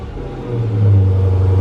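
A 2015-or-later Dodge Challenger or Charger idles with a deep rumble, then a quick blip of the throttle swells the engine and exhaust louder before it eases back, heard from inside the car.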